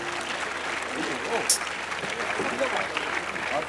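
Audience applause at a medical college festival session, a steady wash of clapping from the crowd with a voice speaking over it.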